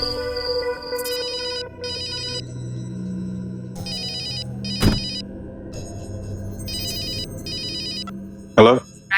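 A telephone rings with an incoming call in a Savdhaan India crime drama, its electronic ringtone sounding in repeated short bursts over a low background score, with a sharp knock or thud partway through.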